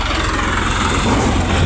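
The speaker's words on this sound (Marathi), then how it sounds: "उसाचे ट्रॅक्टर चाललेले आहेत" A tractor hauling sugarcane runs with a loud, steady engine rumble and throbbing low drone, heard close and continuous with no talk.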